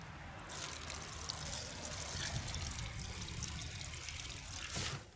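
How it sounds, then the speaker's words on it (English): Stinky pond water trickles and drips steadily through the bottom of a homemade emergency survival water filter, a continuous close-up watery patter with no talking. "You can see it now starting to drip through the bottom."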